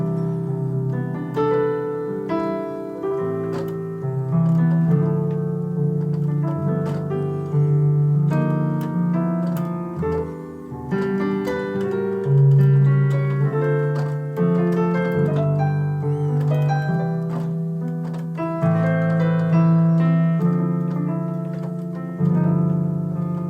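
Jazz chord progression played with flair on a keyboard, rich harmonies moving through voiced chords at a relaxed, steady pace, close and clear with no talking.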